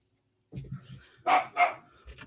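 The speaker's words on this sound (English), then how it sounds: "I guess you had to go bark at people." A dog gives a few close barks, two loud ones standing out after softer huffing sounds, in a short indoor burst.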